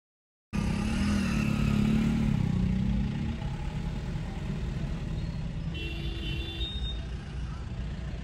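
Congested traffic on a road trip from Hyderabad to Kashi, with a steady close wash of car and motorcycle engines. Rumbling and idling run without a break, with a brief higher whine near the end.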